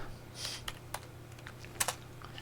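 Scattered keystrokes on a computer keyboard during drive partitioning, a few light, irregular clicks over a low steady hum.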